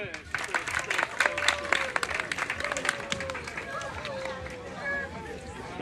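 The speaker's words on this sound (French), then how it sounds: "On applaudit pour lui." A small group claps and cheers after a demonstration of shutting off a leaking gas cylinder valve, with dense, uneven clapping mixed with voices calling out throughout.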